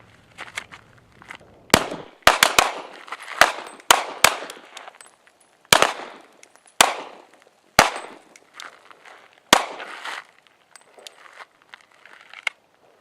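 Sharp gunshots ring out during desert shooting training, about ten loud reports in an irregular volley over roughly eight seconds, each with a quick ringing decay, followed by scattered fainter clinks.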